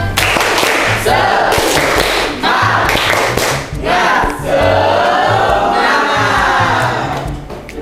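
A classroom of students performs a rhythmic spirit clap, loud patterned group clapping mixed with shouted chanting voices, close and energetic throughout.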